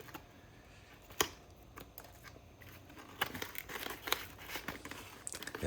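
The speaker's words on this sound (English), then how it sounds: "this is just a test to see how well this blade can cut, and it is doing an amazing job" A CJRB Gobi folding knife blade slices through test material with quiet scraping, crinkling and tearing sounds, punctuated by a few sharper snaps of cutting strokes, all faint and close.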